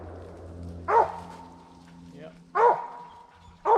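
A hunting dog barks at a squirrel treed in winter woods, giving three loud, sharp barks spaced about a second and a half apart, with a brief spoken reply between them.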